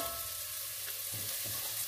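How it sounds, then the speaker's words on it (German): Diced onions and garlic cloves sauté in a pot for a vegan potato, pepper and lentil stew, giving a steady, soft sizzle with faint crackles that holds evenly throughout. "meine Zwiebelwürfel andünsten und danach noch die Knoblauchzehen dazugeben"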